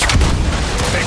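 Rapid heavy gunfire and explosive booms come from the shooter video game Gears 5 during a ranked Control match, loud and continuous, with a player's voice faintly mixed in.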